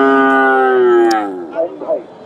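Friesian bull calf, about a year old, at a busy cattle market, giving one loud close drawn-out moo that fades into softer grunting sounds.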